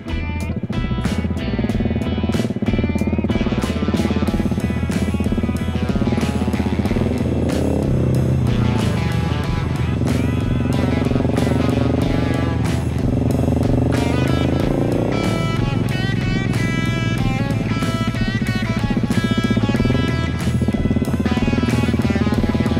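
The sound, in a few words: Husqvarna 701 Enduro motorcycle riding along a mountain route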